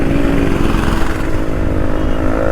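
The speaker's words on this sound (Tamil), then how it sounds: "டாமினார் 400 நினைக்கிறேன்," Engine of a Bajaj Dominar 400 motorcycle going past at a crowded hill-station flower show in Yercaud, a loud, steady throbbing rumble that fills the whole moment.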